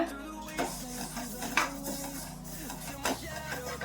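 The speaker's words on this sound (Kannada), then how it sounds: "3 ಟೇಬಲ್ ಸ್ಪೂನ್ ಬಿಳಿ ಎಳ್ಳು ತಗೊಂಡಿದ್ದೀನಿ, ಅದನ್ನ ಹುರ್ಕೊಂತಾ ಇದೀನಿ" Three tablespoons of white sesame seeds roasting in a pan while being stirred, with soft scraping and a few sharp clinks of the spoon against the metal, quiet and close.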